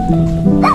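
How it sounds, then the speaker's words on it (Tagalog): A short close dog bark, a yip with a whimpering tone, one quick burst. "Ang dami nilang aso, oh. Tumatahol pa yan."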